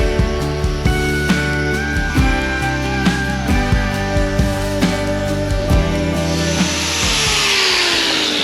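A powered toe shortener grinds down an overgrown cow hoof, a loud close buzzing whir broken by repeated rasping bursts as the tool bites into the horn, with no speech.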